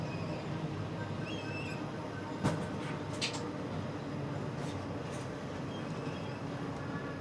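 A Vande Metro air-conditioned MEMU train, also called Namo Bharat Rapid Rail, gives off a steady, even rumble with a couple of faint clicks and no talking.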